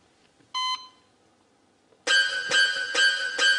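A hospital heart monitor gives one short electronic beep, then after a pause settles into a loud, sustained flatline tone that pulses slightly and carries on alone without any voices.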